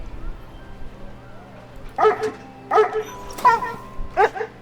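A dog lets out four distinct barks spaced about a second apart, fairly close and clear, with soft whimpering tones between them over a low steady hum.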